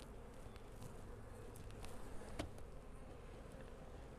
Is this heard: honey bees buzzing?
yes